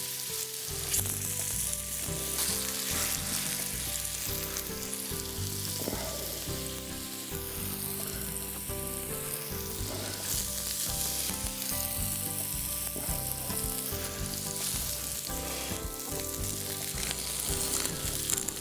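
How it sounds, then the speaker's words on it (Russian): Potatoes and onion frying in a pan for Georgian ojakhuri, with a steady loud sizzle throughout and soft stirring and scraping, no talking. "мы сейчас переворачиваем картофель на другую сторону. Одна сторона у нас уже хорошо подрумянилась."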